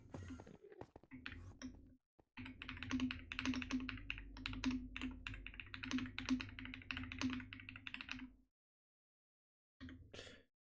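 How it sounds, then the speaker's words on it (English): Rapid typing on a computer keyboard during a Minecraft end-raiding livestream, a steady close stream of clicking keys that runs for several seconds, stops briefly, then resumes, with a low hum underneath. "I don't know why I'm typing out"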